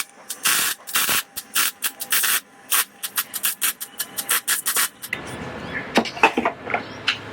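Weld beads laid on a steel work bench crackle and sizzle in short, irregular bursts, close and fairly loud, settling into a thinner continuous hiss with sharp pops over the last couple of seconds.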